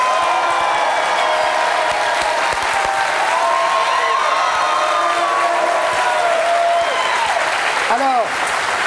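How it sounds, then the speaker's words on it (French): A studio audience applauds and cheers loudly and steadily, with voices and whoops carrying over the continuous clapping throughout. "Alain de Grève, que je vous demande d'applaudir."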